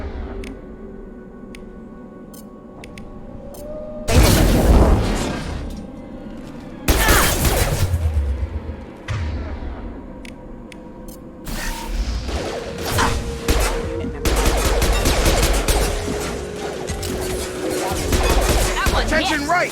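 Mechs attacking in Mass Effect 2 Legendary Edition: heavy crashing impacts and booms, then sustained rattling gunfire with shattering debris, loud and close, with talk mixed in.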